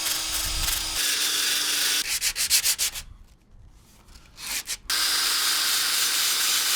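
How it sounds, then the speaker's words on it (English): A metal wire brush spun by a drill scrubs rust off a Miata, a loud continuous rasping that breaks into rapid pulsing strokes, drops away briefly, then returns as steady harsh grinding. "So metal wire brush on the end of a drill is another way to sand."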